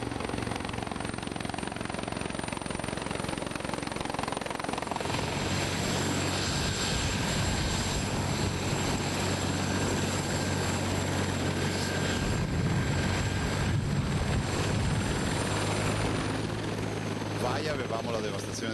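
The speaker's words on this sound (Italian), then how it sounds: "il governatore Zaia ha sorvolato in elicottero le zone più colpite dal maltempo di questi ultimi giorni" A helicopter flies over storm-damaged areas, its rotor and engine drone loud and continuous throughout, with a steady low throb and a voice speaking over it at times.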